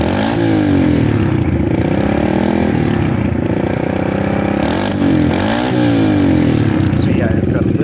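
Kawasaki KLX dirt bike engine, fitted with a KLX carburetor swapped onto a TTR110E, revving loud and close in continuous rising and falling surges, with a voice talking over the engine.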